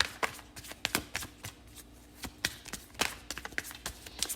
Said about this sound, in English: while I am shuffling